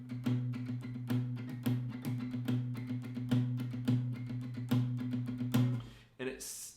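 Syncopated groove with accented hits and quick sixteenth-note figures, played with a steady low sustained tone under sharp repeated attacks, loud and close, ending with a brief burst of noise.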